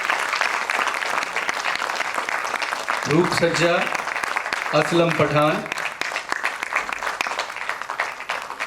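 Audience applauding at a Hindi stage play as the production crew is introduced, steady clapping throughout while a man announces names over it through a microphone.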